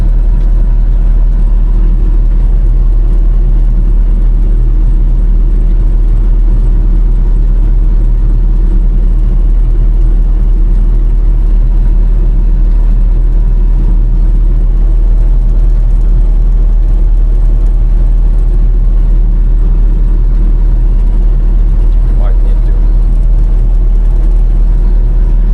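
Tractor engine running steadily through a farm harvest, a low continuous rumble at moderate distance with no voices over it.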